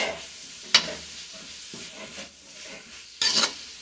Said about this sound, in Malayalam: നല്ല സൂപ്പറായിട്ട് നമ്മുടെ ഈ സവാള അങ്ങോട്ട് വഴണ്ട് വരുന്നുണ്ട്.